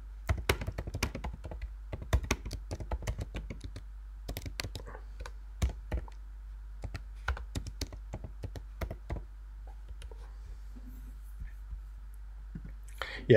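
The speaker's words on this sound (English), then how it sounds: "I'm just going to type something" Typing on a computer keyboard produces quick, irregular bursts of light key clicks and taps, close by and fairly quiet, with short pauses between runs of keystrokes and a low steady hum underneath.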